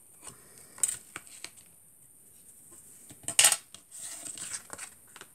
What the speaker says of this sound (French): Je vais couper ici.